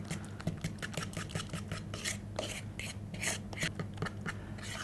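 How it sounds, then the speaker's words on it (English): Wet and dry pancake batter with carrot and sultanas being stirred in a bowl: quiet, rhythmic scraping and rasping strokes of a utensil against the bowl, repeating steadily up close. "keep on mixing the dry ingredients into the wet and keep on stirring around"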